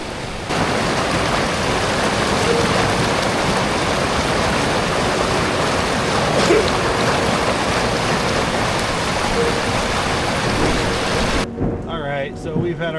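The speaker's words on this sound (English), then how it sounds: "Rain started coming down a little harder, so we packed it in." Steady, loud rain pours down beside a raging creek at Lytle Creek after a storm, forming a dense, continuous hiss and rush that lasts nearly the whole time before easing at the very end.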